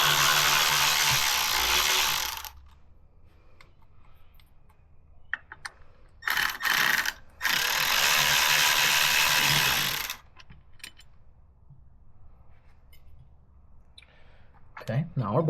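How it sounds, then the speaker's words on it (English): A ratchet spins out the bolts on a Harley-Davidson Road King derby cover. Two long runs of fast, close clicking are separated by brief bursts and quiet handling sounds, and a person speaks nearby. "now our bolts are out and we can take our derby cover off"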